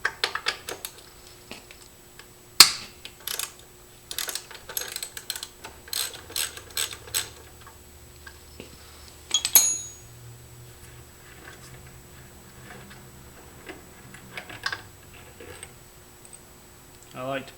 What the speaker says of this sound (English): Remove the muffler bolts, washers, and nut as shown.